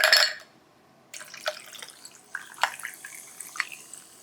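Poppi soda poured over ice in a glass: a loud initial fizzing rush, a short pause, then scattered crackles, clinks and drips as the bubbles settle and ice shifts, close and alone without talk.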